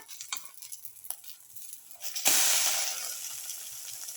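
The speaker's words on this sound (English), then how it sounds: "Now let the omelette fry for another 1 to 2 minutes." Green tomato omelette frying in a pan, soft scraping and tapping at first, then a sudden loud sizzle that flares up and settles into a steady hiss, close by with no talk.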